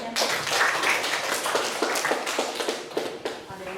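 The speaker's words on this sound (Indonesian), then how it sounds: "Tepuk tangan dulu buat Davian." A classroom of students applauds for a classmate, with a quick burst of brisk, scattered clapping that is near and fairly loud, then fades out.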